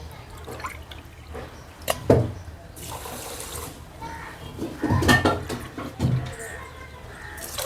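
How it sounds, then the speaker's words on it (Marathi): Water splashes and clatters into a steel bowl of sugar in a home kitchen while preparing syrup for gulab jamun, with intermittent pours and clinks of the vessel close by. "याच वाटीने 4 वाट्या आपण पाणी टाकणार आहोत"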